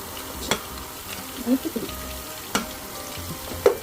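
Onion, green chili and carrot sauté in a pan for a Kerala-style upma, with a low steady sizzle broken by a few sharp spatula taps and scrapes against the pan.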